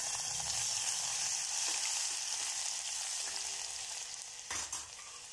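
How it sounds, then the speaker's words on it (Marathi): Half a spoon of cumin and crushed garlic fry in hot oil with a loud, continuous hissing sizzle that eases slightly toward the end, where a brief clatter sounds. "तेल गरम झालंय आपलं, अर्धा चमचा जिरं घालते मी।"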